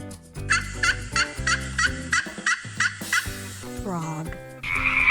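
A turkey gobbles in a rapid burst of about nine loud, rhythmic yelping calls, with other bird-like calls following near the end, no talk over it.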